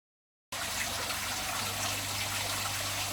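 Steady rushing of water filling aquarium tanks, a continuous close, loud gush with a faint low hum underneath, starting abruptly after a brief silence and running unbroken to the end.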